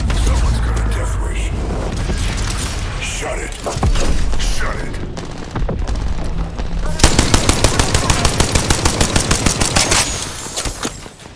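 Apex Legends gunfire: heavy mixed shooting and impacts, then a fast, evenly spaced automatic burst near the end, loud and close, with chatter in the game.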